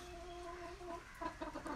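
An Aseel fighting rooster clucks softly nearby in a few short, low bursts toward the end, with a faint steady hum in the background.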